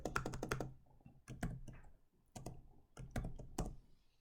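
Keys clatter on a computer keyboard in quick bursts of clicks, grouped into three or four clusters separated by short pauses, close and clear with no talking.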